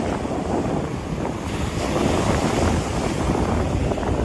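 Strong wind buffets the microphone while waves surge steadily onto the shore at the southern tip of Point Pelee, a loud, continuous roar with no break.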